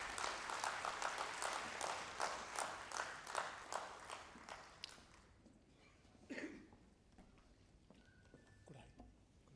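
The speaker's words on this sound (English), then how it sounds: "Please join us in welcoming Dr. Charan Gurumurthy sir with a big round o" A workshop audience welcomes a keynote speaker with applause. The dense clapping is strong for about five seconds, then thins out and fades into quiet room noise with a few scattered sounds.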